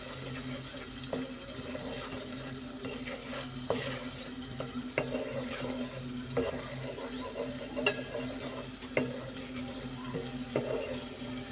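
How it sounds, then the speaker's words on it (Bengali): Spice paste sautéed in a pan for a fish curry with eggplant and pointed gourd: a steady sizzle with a spoon scraping and stirring at regular intervals, close and moderately loud, with no talking. "ভালো করে কষাই নিতেছি"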